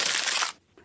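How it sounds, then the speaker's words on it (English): The Mac computer empty-trash sound: a brief broadband crunching whoosh, loud and dense for half a second, then a short quiet gap and a faint tail. "Is it emptying the bin on a Mac computer?"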